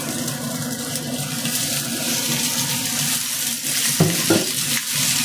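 Beef shank is stir-fried in a very hot pot with ginger for a claypot dish. A dense, steady sizzle runs throughout, and a couple of sharp scraping knocks from stirring come near the end, with no talking.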